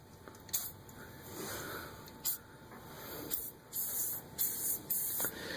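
A can of PB Blaster penetrant sprays onto a rusty brake bolt on a Fiat 1200 in a garage, with several short hissing bursts of varying length close to the mic in a quiet room.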